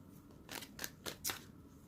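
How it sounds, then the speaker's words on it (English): Tarot cards are shuffled in a few quick, soft riffling bursts, close and fairly quiet, with no talk over them. "let me shuffle some more here"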